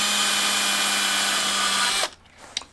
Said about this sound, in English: the rest of them are all going to have a hole drilled